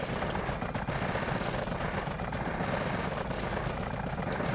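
A helicopter in the video game Just Cause whirs with a steady, loud rotor chop and engine drone that fills the whole stretch without pause, with no talking over it.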